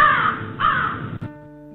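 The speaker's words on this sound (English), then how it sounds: "Crow." A crow gives two loud, harsh caws close by, one after the other, followed by a brief ringing tonal chime.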